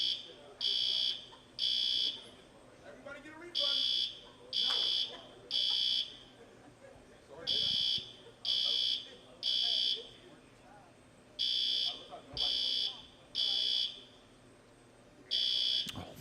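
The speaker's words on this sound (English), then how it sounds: "someone pulled the fire alarm or burnt the popcorn" A fire alarm in a bowling alley blares in loud, regular pulses, bursts of two or three buzzing tones separated by short gaps, over faint crowd and alley noise.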